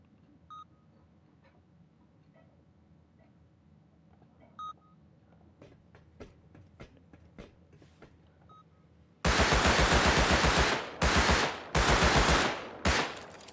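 Loud bursts of automatic gunfire from a firefight in Rust Console Edition, coming in three heavy volleys after a quieter stretch of faint scattered clicks and distant shots.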